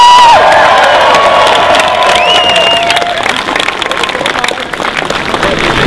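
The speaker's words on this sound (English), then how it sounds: "I want to give them, the campaign, and the UC Davis staff a big round of applause for making this event a reality." A university crowd at a campus political rally bursts into applause and cheering, loud clapping mixed with whoops and shouts from many people close by.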